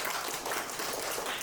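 Elementary school children clapping their hands together in a classroom during a Simon Says game, a dense, busy patter of many small claps, loud and continuous with no pauses.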